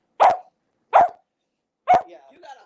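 A dog barking three times with sharp, close, evenly spaced barks about a second apart, the last one trailing into a short whine.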